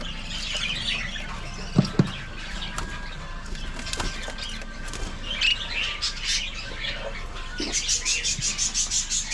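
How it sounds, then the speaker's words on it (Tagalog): Chicks chirp among other birds, with repeated high peeping and squawks close by, plus some sharp clucks. The calls grow into a rhythmic series of chirps near the end. "ito na yung mga sisiw nila"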